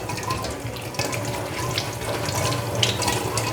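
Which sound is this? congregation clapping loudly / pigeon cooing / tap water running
tap water running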